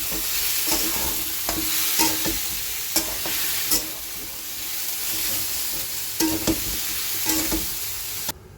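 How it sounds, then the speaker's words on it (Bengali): Soybean chunks frying in oil with salt and turmeric, a continuous close sizzle with regular spoon scrapes and knocks against the pan as they are turned, no voices. "প্রথমে আমি সয়াবিনটাকে ভেজে নিচ্ছি নুন হলুদ দিয়ে"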